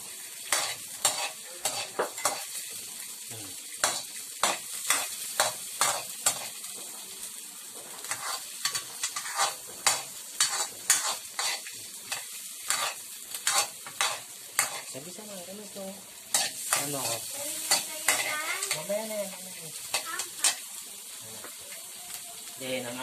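White onion stirred and sizzling in a hot frying pan for macaroni carbonara, with repeated sharp scraping strokes of a utensil over a steady close-up fry, and no talking.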